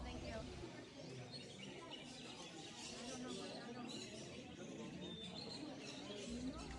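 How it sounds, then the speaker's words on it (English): Pet birds such as canaries and lovebirds chirp and tweet continuously at an indoor bird show and sale, many small calls layered in a busy, reverberant hall with faint background voices. "Look at these birds,"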